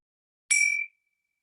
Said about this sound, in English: With the sounds of the gong, just slowly coming back to this moment.